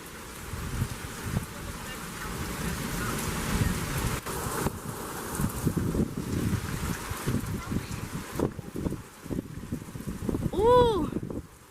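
Gusty wind roars through trees during a lightning storm, a continuous rushing wash that swells and dips with the gusts, loud and close, with a brief high tone near the end.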